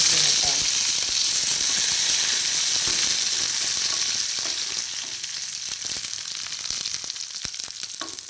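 Curry leaves fry in a pan while a new style of rava puttu is being made, giving a dense, steady sizzle that fades slightly toward the end, with occasional clinks and stirring.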